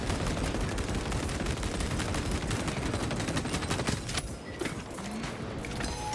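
Rapid, sustained gunfire pours in a dense loud barrage at the Neurothrope in the Space Marine 2 video game, continuous bursts filling the whole stretch before easing briefly near the end, with no talk.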